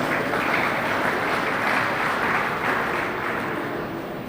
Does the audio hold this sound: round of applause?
yes